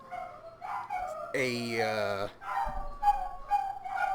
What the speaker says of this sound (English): my dogs are going to start howling